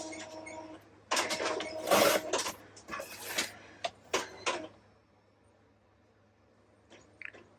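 A sublimation printer prints personalized keychains, giving a few seconds of busy mechanical whirring and clicking bursts over a low steady hum, then fading to near quiet with one faint late click.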